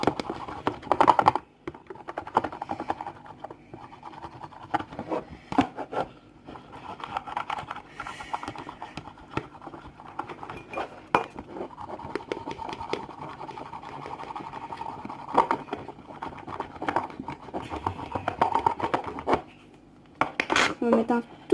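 Homemade slime mixture being scraped and stirred in a small container, producing faint irregular clicks, taps and scratches with short pauses, while someone talks quietly throughout.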